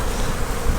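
Honey bees swarm over an open hive in a dense, close, continuous buzz, loud and steady with no voices.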